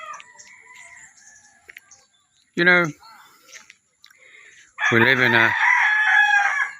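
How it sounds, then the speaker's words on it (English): A rooster crows in the Philippine countryside, a short call followed by a longer full crow, loud and nearby, with someone speaking briefly between them and birds chirping faintly in the quiet background. "the sound of silence always includes the cock-a-doodle-doo"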